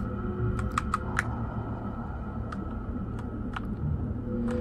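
Computer keyboard keys clatter in scattered sharp clicks and short bursts during a Dino Crisis 2 speedrun, close and fairly quiet over a steady low hum, with no talking.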